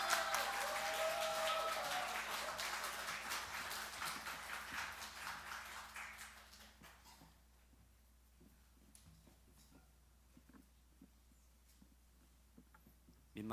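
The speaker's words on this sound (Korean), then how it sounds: "우리 뜨거운 박수로 함께 환영해 주시면 감사하겠습니다." A church congregation at a Sunday service applauds a missionary working in Sri Lanka, warm sustained clapping that fades out after about six seconds into quiet room noise with scattered small knocks.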